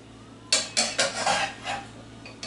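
Noodles being mixed with Frank's Red Hot sauce in a pot: a handful of close clinking and scraping strokes of a utensil against cookware, irregularly spaced over about two seconds.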